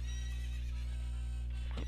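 A horse neighs in the video game Ocarina of Time, a single clear whinny rising near the end over a steady game background hum.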